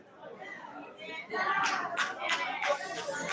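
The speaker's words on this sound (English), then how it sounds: "A round of applause for ourselves." A meeting audience at an annual in-house research review and planning session breaks into applause, quiet at first and swelling after about a second into a steady round of clapping with scattered sharp claps and murmured chatter.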